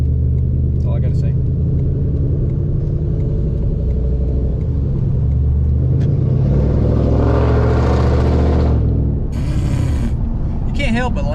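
A car with a loud exhaust rumbles loudly and steadily, then rises in a revving surge before cutting back, with low exhaust throb throughout.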